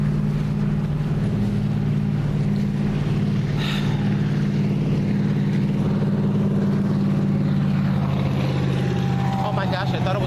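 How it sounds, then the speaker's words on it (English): A truck drives past on a street during a walk, its loud engine rumble steady and close throughout, with someone talking over it. "I thought it was a motorcycle, it's a truck."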